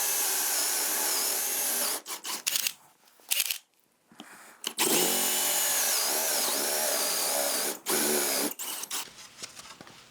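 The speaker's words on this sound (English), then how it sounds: "I'm just gonna drill all the way through both pieces." A power drill whines steadily boring through two stacked pieces of wood in long runs, dropping briefly silent between bursts, with a rising pitch as the bit bites deeper.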